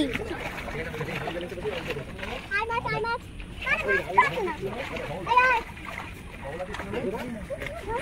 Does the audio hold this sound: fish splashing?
yes